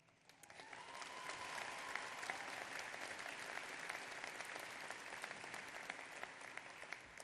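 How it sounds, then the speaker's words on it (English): A graduation ceremony audience in Derby clapping for an honorary degree recipient: applause swells in quickly and holds as a broad, even roar of many hands, sustained and fairly distant in a large hall. "don't keep clapping"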